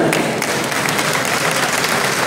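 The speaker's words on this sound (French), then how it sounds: "Et je vous demande, s'il vous plaît, d'applaudir la très chère marraine, s'il vous plaît." Audience applause at a graduation ceremony, a thick burst of many hands clapping at once, loud and sustained from start to finish without speech over it.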